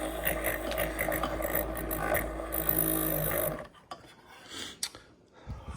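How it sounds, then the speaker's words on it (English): A small handheld milk frother whirs steadily as it froths milk for bulletproof coffee, a close buzzing rasp for about three and a half seconds before cutting off, followed by faint handling noises. "Just kind of froth up the milk."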